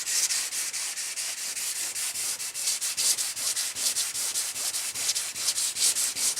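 Steady rhythmic strokes of 600 grit sandpaper worked by hand across clear coat on a candy apple red Monte Carlo SS, a close, continuous scratchy rubbing with quick back-and-forth pulses and no talking.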